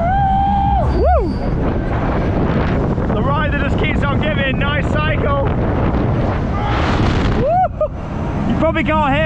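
Strong wind buffets the microphone on a fast fairground ride at a winter funfair in Hyde Park, a constant loud rumble with a person's excited whoops and exclamations over it.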